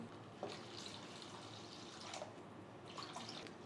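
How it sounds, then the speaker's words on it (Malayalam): Water poured into a pan of sautéed curry base for a thick-gravy fish curry, a faint splashing, trickling stream with soft bubbling bursts, no talking. "ഇനി ഇതിലിട്ട് വെള്ളം ഒഴിച്ചു കൊടുക്കാം"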